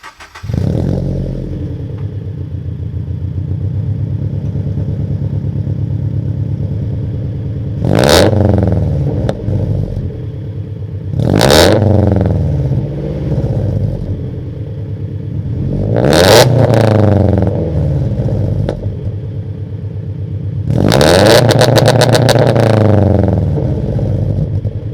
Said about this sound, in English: Let me give you like a little quick blip of the gas, or like the throttle, while we're outside for you can hear it.